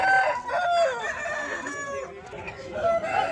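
A rooster crows with long drawn-out calls, close and fairly loud, with some clucking fowl and background noise mixed in, at a poultry market in Vijayawada.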